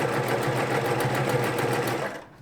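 A White Jeans Machine sewing machine stitches through two layers of denim, its needle running in a fast, steady rhythm close up for about two seconds before stopping.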